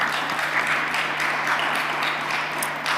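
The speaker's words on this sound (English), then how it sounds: "You're getting a round of applause, Valentina." Applause from a conference audience after a presentation, a soft, steady wash of clapping heard at a distance through a room or remote connection, with no talking over it.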